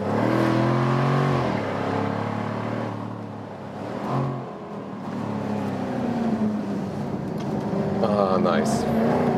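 A Jaguar F-Type facelift P450 pulls hard out of a corner, its engine note climbing through revs with a gear change midway before rising again, heard from inside the car over a voice speaking.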